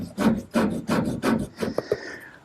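Rhythmic back-and-forth rubbing of sandpaper on cherry wood, four or five even strokes close by, followed by a couple of lighter scrapes.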